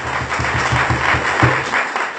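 A church congregation at a Pentecost service claps in a quick, rhythmic unison beat, loud and near, with a low droning tone underneath.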